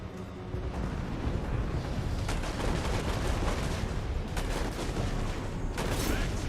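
Volleys of organ gun fire from a dwarf army in a Total War Warhammer 2 battle, a dense rattling barrage of overlapping shots with sharper bursts breaking through, steady and loud throughout.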